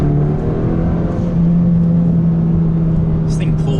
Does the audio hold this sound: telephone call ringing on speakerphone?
no